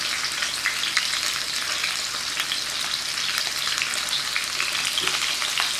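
Beef searing in a hot pan for homemade sandwiches, a steady loud sizzle and crackle of fat with small pops throughout, no talking.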